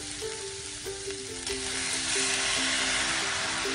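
Tomatoes go into a pan of frying onions and capsicum, giving a steady loud sizzle that swells as they land, with a faint intermittent tonal hum running underneath.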